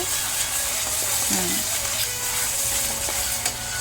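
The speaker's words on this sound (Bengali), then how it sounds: "2 মিনিট আমি একটু ভাজা করে নিলাম গরম তেলে" Food frying in hot oil, a steady close hiss and sizzle throughout with faint stirring clicks, no talk.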